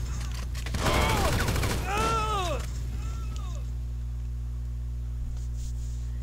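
A short, loud burst of rapid gunfire with incendiary rounds in GTA Online, followed by a voice and a quieter tail, over a steady low hum.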